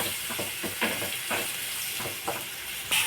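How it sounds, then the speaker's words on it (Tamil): Curry leaves and coriander sautéing for a chicken curry, giving a steady bright sizzle with scattered stirring clicks and scrapes throughout, close and fairly loud, with no talking. "மொத்தமாக கருவேப்பிலை, கொத்தமல்லி எல்லாமே போட்டுக்கிட்டு நல்லா வதக்கி வைக்கணும்"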